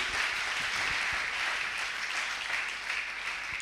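A church congregation applauds to acclaim the king, a dense, sustained wash of clapping from many hands filling the room, steady and alone.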